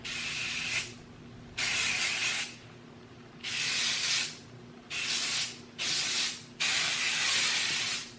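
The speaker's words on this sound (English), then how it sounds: "I'm just gonna spray, spray, spray" Five or six hissing bursts from an aerosol can of hair texturizing spray, each one to two seconds long, separated by short quiet gaps, close to the listener.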